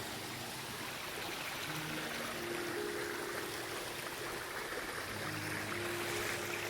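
Water flowing continuously through a leaking channel near a school in Mandanga Ambavali, a Konkan village, a faint, even rush that stays steady and unbroken with no voices.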